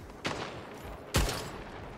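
Gunfire in the video game Splitgate: two sharp shots about a second apart, the second louder, over a steady background of game noise.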